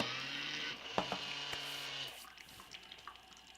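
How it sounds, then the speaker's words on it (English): Baby Brezza formula machine dispensing water into a bottle, a quiet running trickle with motor hum for about two seconds, then a few faint drips and clicks after it stops. "Now, when I hit start, we should see water coming out."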